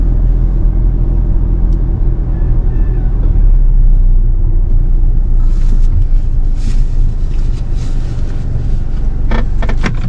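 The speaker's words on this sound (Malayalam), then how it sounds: "അപ്പുറത്ത് വലിയ ട്രക്ക് കിടപ്പുണ്ട്" A large truck engine idles with a deep, steady rumble close by on a desert farm, droning unbroken throughout, with a few faint higher clicks and squeaks near the end.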